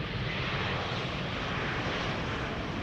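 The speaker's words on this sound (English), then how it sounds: "Yep, idle reverse landing." A Ryanair airliner lands using idle reverse thrust, a steady broadband engine roar that holds evenly throughout at moderate loudness with no speech.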